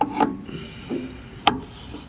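Lubricated oil filter being screwed on by hand, a few brief rubbing and scraping sounds with two sharper clicks, close and quiet, no talk.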